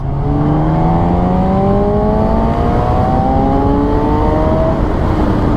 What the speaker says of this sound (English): I really like this bike, so let's shift down 2 gears